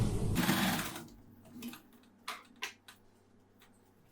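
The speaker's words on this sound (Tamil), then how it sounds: "இப்போ முடிக்கும் போது தான் ஒரு லாக் ஸ்டிச் போட்டு நம்ம முடிச்சுக்கலாம்" A sewing machine runs a brief lock stitch on a women's cigarette pant, a loud whirring burst that slows and stops, followed by a few sharp mechanical clicks and ticks.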